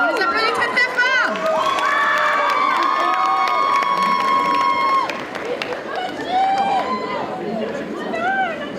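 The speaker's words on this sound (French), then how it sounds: "On les applaudit très très fort." A crowd at a cosplay contest at a Japan manga convention in Rennes applauds and cheers loudly, with whoops and shouting children over sustained clapping that eases after a few seconds. Chatter runs underneath.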